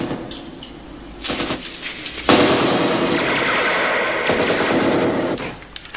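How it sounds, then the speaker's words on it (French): Rapid bursts of gunfire at the east end of a prison, with heavy automatic fire swelling loud and sustained, then dropping briefly and resuming in dense volleys without any talking. "on reçoit des coups de feu à l'extrémité est de la prison"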